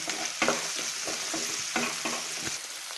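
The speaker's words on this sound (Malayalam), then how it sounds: "ഒന്ന് 2 മിനിറ്റ് സവാള നന്നായിട്ട് വഴറ്റണം." Onions sauté in a pan of oil for vegetable macaroni, a loud close sizzle broken by several scraping strokes of a spatula stirring them.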